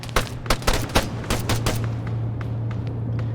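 Bursts of automatic gunfire in a military shooter game, several loud, close cracks in quick succession early on, then fainter, distant shots over a steady engine-like drone.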